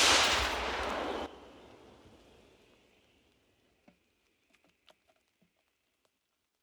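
A single heavy artillery gun blast booms out, then rumbles and decays over a few seconds, followed by scattered faint clicks and pops.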